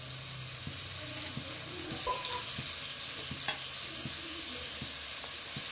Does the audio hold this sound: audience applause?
no